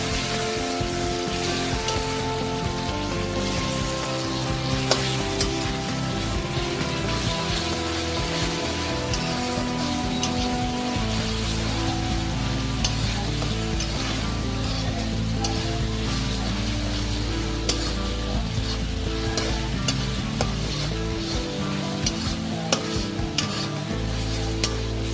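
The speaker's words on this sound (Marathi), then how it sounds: "आता ह्यामध्ये मी टोमॅटो ॲड केलेला आहे. त्याला पण आपण छान परतून घेणार आहे." Tomatoes sauté in hot oil for dhaba-style chhole, a dense continuous sizzle and crackle over a steady low hum that persists throughout without speech.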